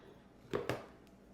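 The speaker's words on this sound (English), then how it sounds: "I'm going to use this knife to level off my" A knife scrapes across the rim of a measuring cup of flour in a quiet kitchen, giving two quick, soft strokes close by, with a faint tap after them.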